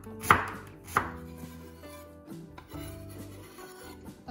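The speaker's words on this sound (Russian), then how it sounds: "Лук нарезаю тонкими четверть кольцами" Two crisp knife chops on a cutting board, followed by quieter slicing of a red onion into thin quarter rings, with soft background music throughout.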